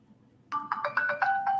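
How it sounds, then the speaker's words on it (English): A phone rings with an incoming test call: a bright electronic ringtone starts abruptly and repeats a quick run of melodic tones, loud and close, with no talk. "I'm actually going to test calling in right now with my phone to see how it works."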